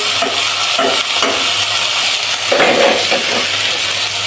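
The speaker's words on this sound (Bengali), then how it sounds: "পেঁয়াজ রসুন হালকা করে ভেজে নিচ্ছি" Onion and garlic fry in a pan with a steady, close sizzle, broken by repeated scraping strokes as they are stirred, with no voices.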